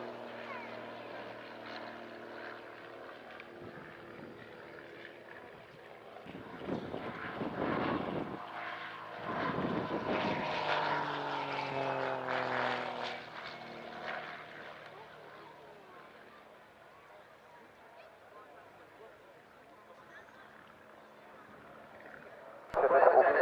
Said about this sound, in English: the slow roll Andy is performing now requires him to expertly operate the ailerons, the elevators and rudders